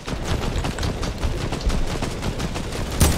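Heavy sniper rifle gunfire in a video game battle, a dense run of sharp shots and impacts filling the whole stretch at steady loudness, with one harder crack near the end.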